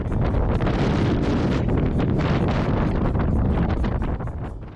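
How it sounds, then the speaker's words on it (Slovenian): Strong wind blows on the Cyprus coast, buffeting the microphone in a loud, continuous roar with gusting rumble, alone and close throughout. "ste videli koliko piha"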